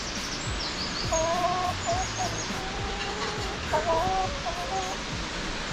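Chickens cluck in a small raised coop at the Bosson mountain chalet near Chamonix, a steady run of near, overlapping clucks and calls over outdoor ambience.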